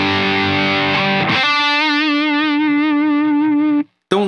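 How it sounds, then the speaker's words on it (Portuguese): Electric guitar played through a distortion pedal on a pedalboard setup, a sustained distorted chord ringing loud and close, then a sharp cut to silence and a brief burst as it returns. "Eu uso ele para empurrar a distorção principal, né? Então eu tenho distorção"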